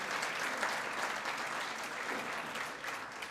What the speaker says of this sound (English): Let's have a big round of applause for Bonnie McCrae, our pianist tonight.